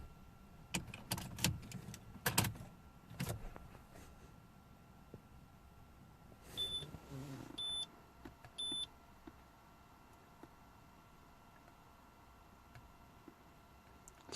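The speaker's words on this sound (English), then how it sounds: "It's gonna cycle the ignition." Ignition on a Citroën C2 cycled during an ECU programming update for a cooling fan fault: a few sharp clicks and taps at the start, then several quiet electronic beeps and chimes inside the car.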